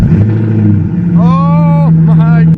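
A straight-piped Maserati GranTurismo MC engine idles with a steady low rumble, then revs up in one rising, sustained blip that falls back before a second shorter rev, loud and close.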